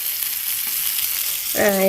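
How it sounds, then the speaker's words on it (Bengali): Fish pieces fry in a pan, a steady soft hiss of sizzling oil, with a brief brighter tonal sound near the end; no one speaks. "এই যে দেখো মাছ ভাজা করছি"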